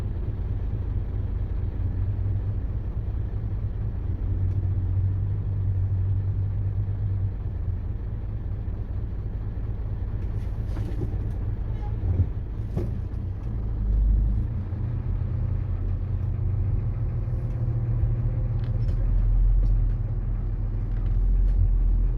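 Continuous low engine rumble from a small excavator, steady and fairly loud, with occasional faint knocks over the drone.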